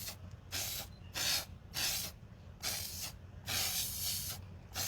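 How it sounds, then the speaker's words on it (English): Spray can respraying a stencil design, with a series of short hissing bursts of paint, about seven, each lasting under a second and separated by brief pauses, fairly close and alone. "I'm gonna redo this, and so I'm gonna respray it."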